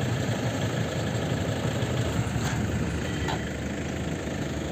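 A car engine running steadily as the car, jammed and stuck with a broken tyre, is driven forward, giving a constant broadband rumble throughout with no clear rise in revs and no talking.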